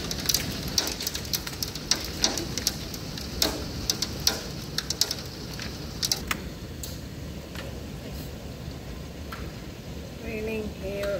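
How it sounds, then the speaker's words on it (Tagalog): Hard rain and hail pound down outdoors over a garden, a dense steady hiss broken by sharp ticking impacts of hailstones, with faint voices in the background. "Raining, hail, and water."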